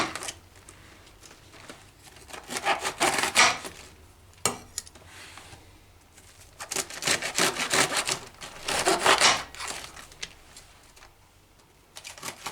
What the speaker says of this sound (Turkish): şuradan tam damarlara gelecek şekilde tekrar kesiyorum